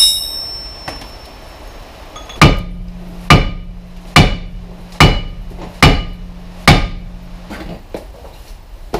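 Seven loud metallic hammer blows strike a Mk6 Ford Transit front brake assembly at a steady, slow rhythm, each ringing briefly with a faint tonal hum underneath.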